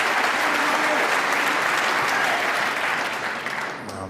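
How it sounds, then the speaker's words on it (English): Sustained applause from a large audience at the 2017 UK Championship snooker final, steady clapping throughout that eases slightly toward the end. "Well, a terrific round of applause"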